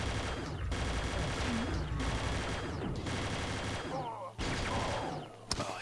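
Rapid, continuous weapon fire in the game Doom, played on the level On the Shores of Hell, loud and sustained in long bursts with brief breaks, mixed with mechanical game effects.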